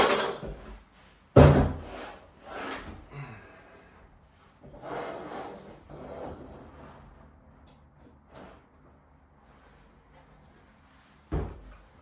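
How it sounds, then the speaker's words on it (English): Wooden sliding door panel for a sauna being fitted with hinges: a sharp knock, then scattered wooden thumps, scrapes and clatters of handling, fairly close, with a final solid knock near the end. "I'm going to first place the roof door on it with the hinges towards the back"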